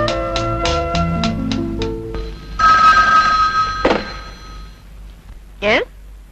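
A telephone rings in several short electronic bursts, then a clunk and brief rattling as it's picked up, followed by a faint sweep.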